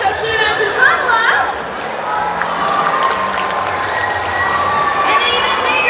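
Crowd at a dolphin show at the Georgia Aquarium in Atlanta cheers and chatters, with children's shouts and scattered clapping rising in a loud, lively mix.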